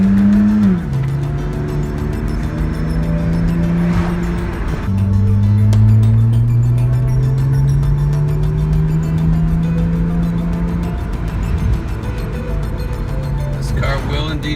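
A tuned BMW 135i accelerates through the gears, its engine note rising in pitch, dropping at each shift and climbing again, loud and close from inside the car, with someone talking over it.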